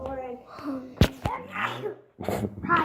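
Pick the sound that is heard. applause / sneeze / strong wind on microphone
sneeze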